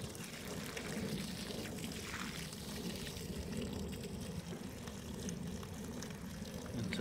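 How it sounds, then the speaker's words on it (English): Water drains steadily out of a homemade bell siphon, a continuous low pouring and trickling rush at moderate distance that holds without a break and has no talk over it. "I'll take the water out, and we'll watch it as it drains down."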